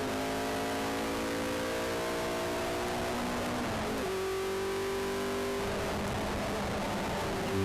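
Race cars accelerate off the start of a race at the Brands Hatch GP Circuit, with several engines revving and rising in pitch together, heard steadily at moderate volume from inside or near the field.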